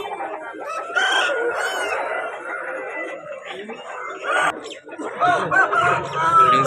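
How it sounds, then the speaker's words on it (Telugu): A rooster at a chicken market crows loudly and repeatedly while other fowl cluck, with people talking over the birds the whole time. "చూడండి అసలు ఎంత అందంగా ఉందో కోడి."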